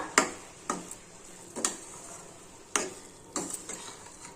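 Grated coconut frying in ghee and sugar syrup, stirred in a pan: a soft background sizzle broken by five or six sharp spoon scrapes and taps at uneven intervals, no voices.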